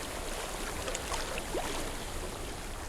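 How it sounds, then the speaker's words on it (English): Water flows steadily as a continuous broadband rush from a stream in the video game Hellblade: Senua's Sacrifice, heard alone at a moderate, even level throughout. "I hear water on my left side,"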